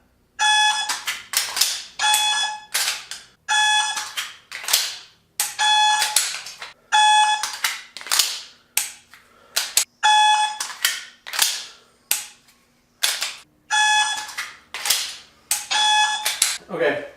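A G-Sight laser trainer shot timer sounds a string of sharp electronic beeps, repeated in a steady rhythm of about a dozen short bursts, loud and close with no talking.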